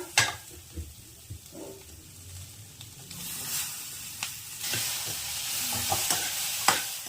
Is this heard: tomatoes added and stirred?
yes